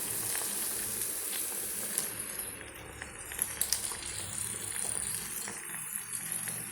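Dal with ivy gourd and snake gourd simmering in water in a pan, a soft steady sizzle and bubbling with faint scattered clicks and rattles, quiet and continuous with no voices.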